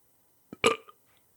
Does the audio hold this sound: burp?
yes